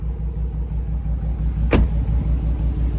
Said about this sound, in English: Now I have the car running.